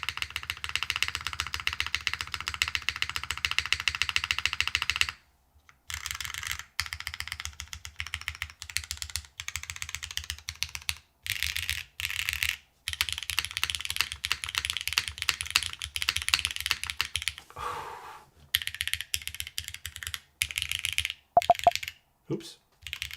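Typing on a mechanical keyboard with an FR4 PCB and switches given ten light coats of lube, a dense rapid clatter of muted keystrokes with brief pauses, close-miked and steady throughout.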